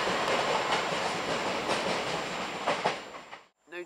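A train rolls steadily past at Jordanhill station in Glasgow, a dense, close rumbling roar with faint rhythmic clatter that carries for several seconds, then quickly tails off into near silence.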